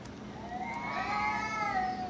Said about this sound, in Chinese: 猫咪打得凶，好不好？